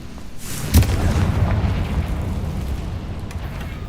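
A Confringo explosion spell in the video game Hogwarts Legacy: one sharp, booming blast near the start, followed by a low rumbling tail that fades slowly.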